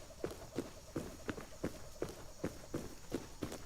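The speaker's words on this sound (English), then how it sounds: "we're not going to blend in particularly well in a hazmat. It's also quite noisy in terms of footsteps" Footsteps of a player in a noisy hazmat suit in the survival game Rust, a steady rhythm of about ten heavy, scuffing steps, close and fairly loud over a faint background hiss.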